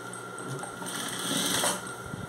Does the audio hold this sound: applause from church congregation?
no